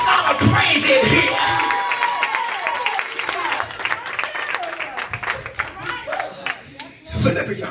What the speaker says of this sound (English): Somebody clap those hands. Give God a praise in here.